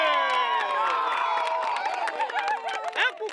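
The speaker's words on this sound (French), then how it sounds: "Applaudissements!" Crowd of partisans cheering and clapping at an election headquarters during 2021 legislative elections in Ferké, a loud dense roar of voices with shouts and whoops rising over steady applause.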